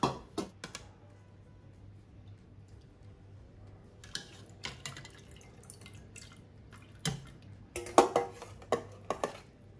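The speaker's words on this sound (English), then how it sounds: "I'll now remove the beef from the pressure cooker and also the vegetables." Beef chuck and vegetables are lifted out of a multi-cooker pressure pot, with sparse, quiet clinks and taps of utensils against the pot, a louder cluster of clatter near the end, and a low steady hum underneath.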